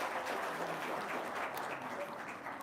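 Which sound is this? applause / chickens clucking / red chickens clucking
applause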